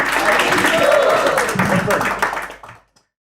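Crowd at a storytelling contest cheering and applauding loudly, a dense wash of clapping mixed with shouting voices that holds steady and then cuts off abruptly.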